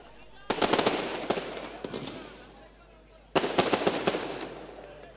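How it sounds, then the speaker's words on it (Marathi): Firecrackers burst at a felicitation ceremony in Dombivli, two quick crackling volleys of sharp pops separated by a lull, with a single crack between them; loud and close. "फटाक्यांच्या आतिषबाजीमध्ये आपण या ठिकाणी यथोचित सन्मान करतोय."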